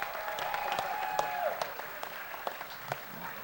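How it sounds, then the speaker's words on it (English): Applause from an audience at a solar panel unveiling at a New Orleans school, honoring a Super Bowl host committee member; steady moderate clapping throughout with scattered sharper claps and faint voices mixed in. "Y'all give him a round of applause."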